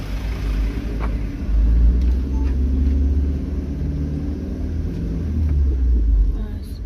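A car on a village road in Kasimpar, Petungkriyono, Pekalongan, rumbles as it passes another vehicle, the low engine drone swelling and easing over several seconds with faint road noise.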